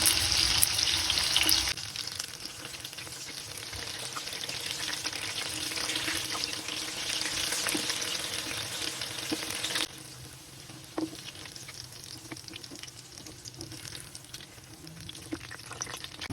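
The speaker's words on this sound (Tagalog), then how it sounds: "Prituhin lang po natin until mag-golden brown bawat side." Cubes of tofu fry in a pan until golden brown, giving a steady, close crackling sizzle that runs without a break and briefly swells louder at the start.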